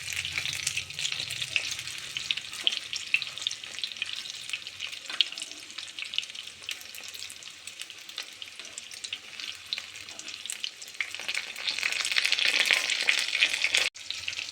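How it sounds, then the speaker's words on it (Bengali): Fish pieces for chilli fish fry in a pan, a close continuous sizzle with occasional scrapes and clicks as they are turned, the hiss swelling louder near the end, with no one speaking. "এক পাশ ভাজা হয়ে গেলে আর এক পাশ এরকমভাবে উল্টে দিতে হবে মাছগুলো।"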